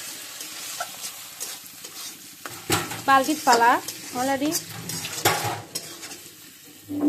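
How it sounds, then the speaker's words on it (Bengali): Bele, a fresh river fish, sizzles as it fries in a pan. Steady crackling comes with occasional clinks of a utensil against the pan, and someone speaks briefly over the cooking partway through. "এখন আমি মাছটা দিয়ে দিই, মাছটা একটু ভাজা হোক"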